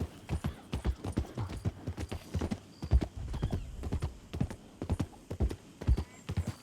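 Horse hooves clip-clop steadily in Goldrush RP, a Western roleplay video game, with quick, evenly spaced hoofbeats that stay up close and fairly loud throughout, with no talking over them.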